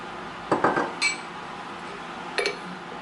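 A metal dough hook is fitted onto a stand mixer with a few sharp metallic clanks and clicks, a cluster early on and another near the end, close and fairly quiet.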